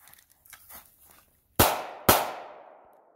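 Two sharp, loud pistol shots ring out about half a second apart on an outdoor shooting range during a basic pistol class, each followed by a short echoing decay after faint background noise.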